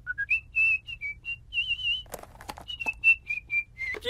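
A lively whistled tune of short rising and falling notes, from a Simpsons cartoon, briefly interrupted midway by a few sharp clatters and knocks before the whistling resumes.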